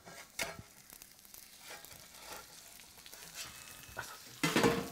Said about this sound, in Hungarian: és beletesszük a forró serpenyőbe.